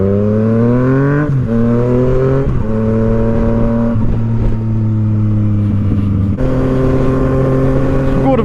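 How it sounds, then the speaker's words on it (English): Motorbike engines roar and rev loudly at a bike meet, with steady harmonic engine tones rising and dropping through several throttle bursts as a burnout is performed, continuous and close throughout. "who's doing burnouts?"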